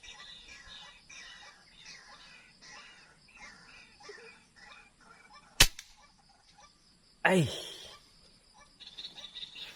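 Air rifle firing slug pellets at a banana-leaf target 30 metres away, one sharp loud crack standing out over outdoor background noise and faint chatter, followed by a second louder burst.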